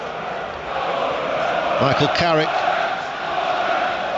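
A football crowd roars and chants through a Middlesbrough v Chelsea League Cup semi-final, a loud continuous wash of noise with a commentator talking over it.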